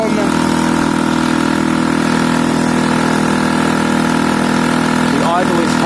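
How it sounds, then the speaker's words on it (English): A Piaggio Fly 50cc scooter engine idles steadily and loudly, high idle or choke on, a fast buzzing drone holding constant throughout, up close, with a brief rattle near the end. "The idle is high or the choke is on, but it is running."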